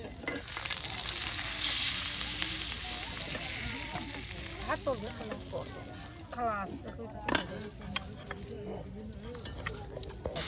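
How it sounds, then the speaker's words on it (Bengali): Fish, hilsa, frying in hot oil on an outdoor stove, a steady loud sizzle and crackle with occasional scraping and stirring, while a person talks over it. "একে একে দেখুন কত মাছ ভেজে নেওয়া হচ্ছে"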